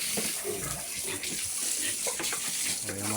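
Water splashes and pours steadily over hens being bathed, a continuous close gush with small bursts and spatters throughout.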